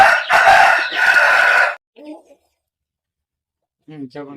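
A white Sankranti fighting rooster, a size 24 game fowl, lets out a loud, close crow lasting over a second, followed by short clucking calls after a pause.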